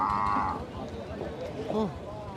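An Indian Murrah buffalo at a cattle market lows loudly while being unloaded from a truck, a long moan followed by shorter groans over crowd noise and nearby voices.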